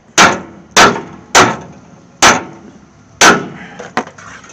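A hammer pounds a steel bumper from a 1968 AMX straight, giving five loud, sharp metallic blows at uneven intervals with ringing decay, then a lighter tap at the end.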